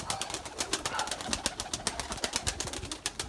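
Purebred Erzurum white breeding pigeons cooing close by in a loft, a dense run of soft repeated coos and wing or foot rustles, fairly quiet with no talk.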